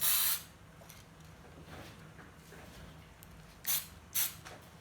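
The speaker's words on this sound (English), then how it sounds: "I'm going to use the purple Spraymate fast drying paint to spray the following parts." Purple fast-drying spray paint hisses from an aerosol can onto toy blaster parts in short bursts, one at the start and two near the end, with a faint background hum between.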